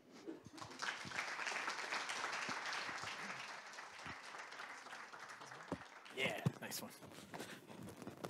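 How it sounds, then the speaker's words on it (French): An audience at the MTL Tech Awards innovation ceremony applauds the three finalists, a dense, faint patter of clapping over several seconds, with some scattered louder claps and shuffling near the end. "on applaudit les 3 finalistes des prix d'innovation pour les MTL Tech Awards"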